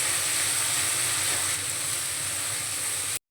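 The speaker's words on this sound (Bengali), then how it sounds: "মশলার পেস্টটা দিয়ে আবারও আমি কষিয়ে নেব।" Stone-ground spice paste for a young jackfruit kalia fries in a pan, a dense, steady sizzle close by with no voices, stopping abruptly at the end.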